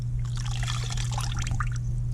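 Water trickles and splashes steadily while rinsing rust dissolver off a rusty metal part with a ring, a continuous close pouring and dribbling over a low steady hum.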